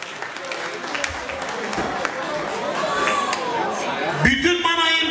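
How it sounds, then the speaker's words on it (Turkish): Guests at a graduation ball in Mannheim clap for a man after cash gifts are counted out. The applause is a mixed, roomy crowd sound beneath a loud talking voice, with music entering near the end. "Bu enişteye alkışlar var mı?"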